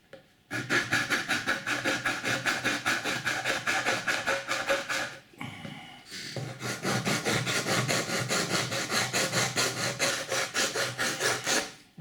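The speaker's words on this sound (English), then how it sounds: "The edges are a bit funny now, so I'm going to file those off." A wooden Native American flute is filed along its edges with a hand file, producing steady, close, rhythmic rasping strokes that pause briefly midway and then resume at the same pace.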